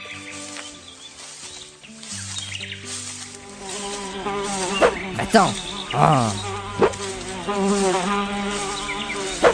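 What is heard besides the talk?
fly buzzing, from a Zelda parody video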